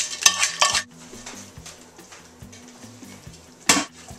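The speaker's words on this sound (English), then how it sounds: "Now to that I'm going to add my lobster shells." Lobster shells tumble into a soup pot for lobster bisque, with a few sharp clattering knocks of shell against metal near the start and another at the end, separated by quieter scraping and stirring.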